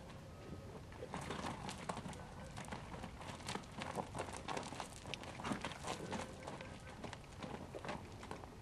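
A horse's hooves stamp and clatter irregularly on a trailer floor while being loaded, with continuous scuffling and shuffling throughout and faint voices in the background.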